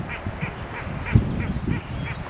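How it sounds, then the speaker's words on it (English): Ducks quack at a lake along a hiking trail, a faint repeated series of distant calls over steady outdoor background noise. "If you listen closely, you might be able to hear the ducks over there."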